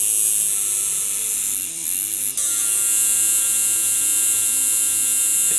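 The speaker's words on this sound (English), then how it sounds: "it sounds something like a tattoo machine" A Lace Nano tattoo machine running at maximum power gives off a steady, loud electric buzz with a constant hum, briefly dipping once before carrying on evenly, with no voices present.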